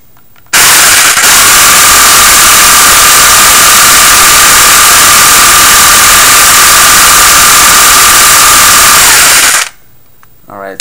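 A modified G&G airsoft electric gun with a homemade MOSFET fires one loud, unbroken full-auto burst for about nine seconds during a stress test, a steady high whine over a dense rattle, then stops abruptly.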